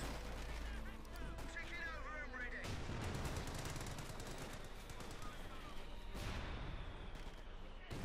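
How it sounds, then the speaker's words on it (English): Continuous battle din from Company of Heroes 2, with mortar and gunfire crackling and thudding steadily for the whole stretch, dense and loud, with a voice talking over it. "A lot of mortar there continuing down"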